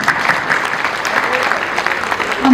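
Audience applause and cheering for a students' welcome dance at a school Grandparents Day celebration: a dense, steady wash of clapping that holds at even loudness throughout and swells slightly at the very end.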